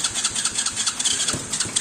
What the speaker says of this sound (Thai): เอาเดี๋ยวลองดูกันนะครับว่าจะสตาร์ทติดไหม